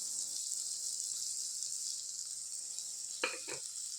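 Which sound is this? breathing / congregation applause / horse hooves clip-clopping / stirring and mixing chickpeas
stirring and mixing chickpeas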